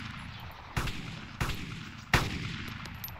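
Gunshots fired at a soldier in the Arma 2 DayZ Mod, three sharp, loud cracks spaced roughly evenly about two-thirds of a second apart over a low steady background, each with a short echoing tail.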